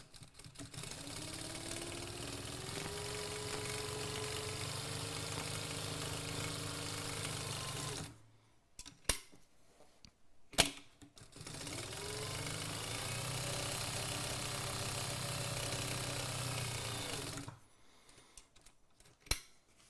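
An industrial sewing machine built for light-duty fabric stitches a bag in two steady runs of about eight and six seconds, separated by a short pause with a few clicks and knocks. No one talks.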